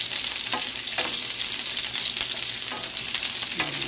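Sliced onion sautéing in a hot pan, a dense continuous sizzle broken by periodic scraping stirs, close and loud with no voices.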